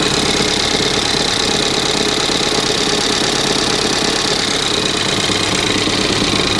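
A Ford Fiesta ST180 with a rough idle and a vibration runs steadily up close, a loud continuous engine drone with a faint uneven knocking pulse throughout and no speech.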